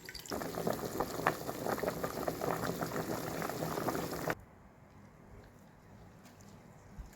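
Water bubbles at a vigorous boil in a pot of pork for about four seconds, then stops abruptly, leaving a faint, quiet background.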